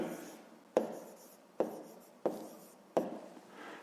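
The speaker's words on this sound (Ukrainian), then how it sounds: "Записуємо тоді цю частку у вигляді дробу" Numbers are written out by hand during a fifth-grade math division exercise. Four distinct pen strokes start with sharp taps at a steady pace, each trailing into a faint scratch, in a quiet room with no speech.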